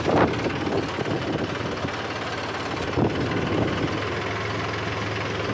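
A farm tractor engine runs steadily outdoors during a fertilizer loading job, a continuous low rumble with wind buffeting the microphone and no speech.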